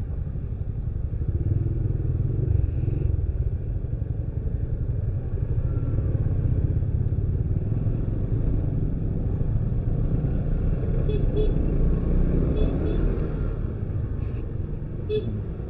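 Congested road traffic on the Ciawi–Cicurug route near Sukabumi, with motorcycles and cars idling and rumbling steadily throughout, and several short horn toots sounding in the latter part.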